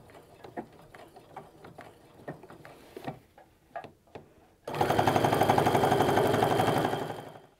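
A sewing machine runs in one steady, loud burst of stitching on a fabric apron, after a stretch of quieter ticks and handling clicks.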